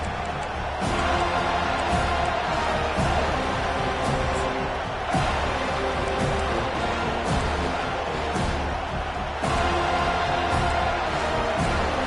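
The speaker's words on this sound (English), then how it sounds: "This crowd bringing the energy and noise early." A stadium crowd at a football game roars steadily and loudly, a dense wash of cheering and noise with a few brief surges and thumps.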